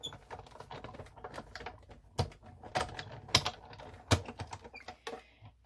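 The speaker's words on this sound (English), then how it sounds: "So I'm going to die cut the second one." A die cutting machine cuts a tree shape from paper for a cabin frame, giving irregular close clicks and crunchy snaps with a few sharper cracks, and no talking.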